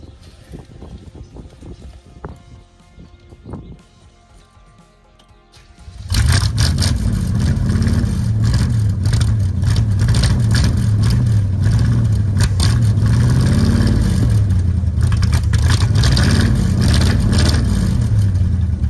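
A 1965 Beaumont car engine starts after some quiet mechanical clicks and clatter, then catches and runs loudly and roughly, its revs rising and falling in a close, continuous roar.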